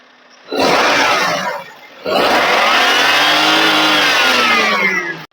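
A Maruti Alto K10 car engine roars loudly as it is revved, dips briefly, then revs again and holds a steady, strained drone.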